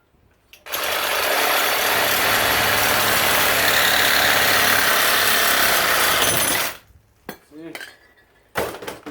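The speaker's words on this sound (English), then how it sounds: "Fairly decent blade on your Sawzall. Let your vise help you out." A Sawzall reciprocating saw cuts metal clamped in a vise, roaring in a loud, continuous buzzing rasp for about six seconds, then stopping, followed by a few clanks and handling noises.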